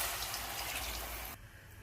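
Water pours steadily from a vessel into a cooking pot while tomato bath with peas is being made, a full rushing splash that stops abruptly near the end, leaving quiet.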